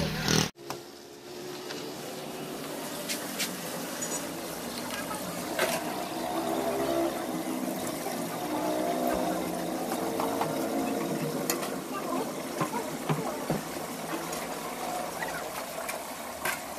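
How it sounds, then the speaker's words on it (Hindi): Water runs steadily into a container at a water filter, a continuous gushing flow with faint splashing, fairly close, with no talk over it. "इधर से भरते हैं अब हम पानी"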